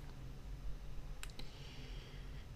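A couple of quick, faint clicks of a computer mouse close by, sharp and isolated over a quiet room hum, with no talking.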